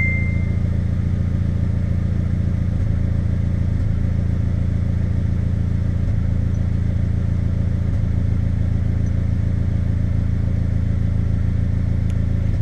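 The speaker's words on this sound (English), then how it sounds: "It's still giving us the crankshaft position sensor, so, and it is starting to misfire" A Suzuki X90 engine idles steadily and loudly, with a low droning hum broken by faint periodic stumbles and hiccups from a misfire, heard alone with no talking.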